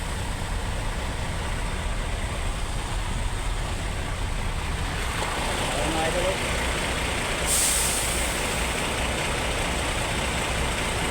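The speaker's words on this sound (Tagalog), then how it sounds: "sobrang traffic na mga idol" Heavy traffic roars steadily with idling trucks and a sharp hiss of air brakes partway through, while someone talks over the constant engine rumble.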